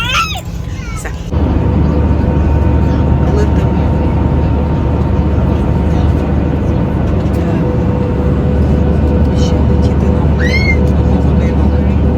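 A steady, loud airplane cabin drone fills the space inside a passenger aircraft, with brief voices heard at the start and near the end.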